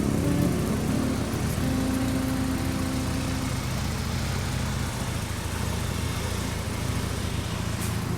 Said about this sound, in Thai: เครื่องยนต์ดีมากนะครับผมสองสูบนะครับ